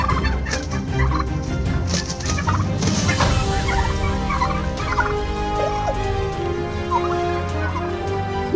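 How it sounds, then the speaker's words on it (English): Loud, continuous turkey gobbling with warbling calls over a busy, noisy background as a rooster and turkey fight, sustained throughout without any talking. "rooster versus turkey."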